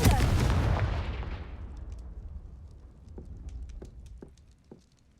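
A Confringo fire-blast spell in Hogwarts Legacy erupts as one loud, booming explosion, then rumbles off into a fading tail with scattered crackles and small debris pops.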